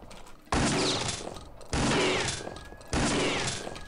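Three loud bursts of gunfire from the retro video game Kingpin: Life of Crime, each a sharp blast trailing into a short noisy decay, about a second apart.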